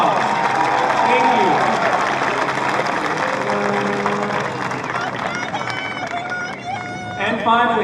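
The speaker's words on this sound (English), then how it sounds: "Let us give them a huge round of applause." A crowd at the 2016 James Logan High School commencement applauds teachers, counselors and staff: loud, sustained clapping from a large gathering mixed with cheering, whistles and crowd voices, fading slightly before a renewed swell at the end.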